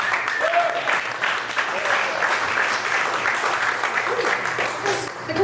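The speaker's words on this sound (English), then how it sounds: "Give yourself a round of applause, you guys." Audience at a Santa Monica comedy show applauds, a steady wash of clapping from a mid-sized crowd with a few faint whoops and murmurs, close and even throughout.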